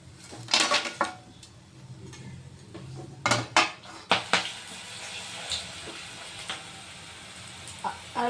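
Okra (ladies finger) fries with curry leaves in a pan under a faint sizzle, broken by sharp clinks and scrapes of a utensil against the pan, close by.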